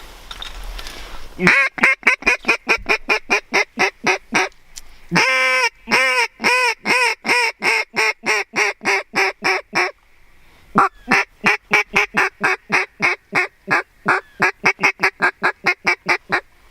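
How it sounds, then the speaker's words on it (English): A flock of geese honks loudly and close over and over in a fast, steady rhythm on public hunting land, with a few brief pauses between runs of calls. "There's some more right under those geese right there."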